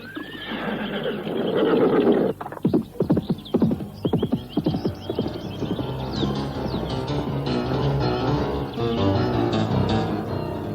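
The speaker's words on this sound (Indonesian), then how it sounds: "Dua kuda berpisah, masing-masing punya sasaran sendiri-sendiri." Horses in an audio drama effect, with a loud whinny followed by rapid galloping hoofbeats that carry on steadily, close and prominent with no talk.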